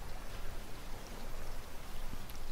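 Rain pours steadily in a rainstorm out at sea in the survival video game Raft, a dense, even hiss of falling drops with no talking.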